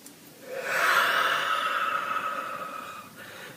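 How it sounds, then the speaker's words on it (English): One long, deep inhalation through the nose, a steady airy rush that swells and holds for a few seconds before fading, close and fairly quiet. "Breathing in"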